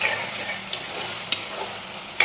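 Kudampuli (garcinia) pieces fry in hot oil for a para fish curry, a steady close sizzle with a few sharp pops and spatula scrapes.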